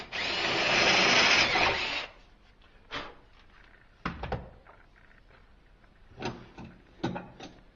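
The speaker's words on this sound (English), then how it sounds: "To get the small copper tube into the great copper tube, we have to drill here a little bit." A power drill bores into a copper tube to widen it for a smaller copper tube, a loud two-second whine, followed by scattered clunks and taps of the tube being handled.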